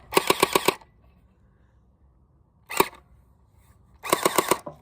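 A cheap splatter-ball gel blaster toy gun fires gel balls in loud, close rapid bursts: a quick string of about five snapping shots, a single shot, then another burst of five or six, with silence between.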